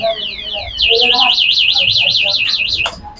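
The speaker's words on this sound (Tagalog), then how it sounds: "Apakalakas ng kanyang anti-theft alarm guys." An e-bike's anti-theft alarm in a Marikina bike shop blares a loud, close, rapidly warbling siren tone that cycles up and down for about two seconds, with brief talking underneath as it starts.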